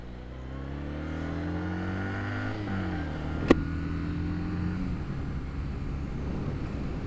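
Kawasaki W800 motorcycle accelerating on the road, its engine note steadily rising through the gears with smooth rising tones and a brief shift, heard close amid steady wind rush.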